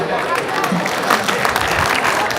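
An audience at a Sardinian folk festival claps steadily for a singer being introduced, a close, even patter of many hands that stays strong throughout, with a voice faintly present underneath.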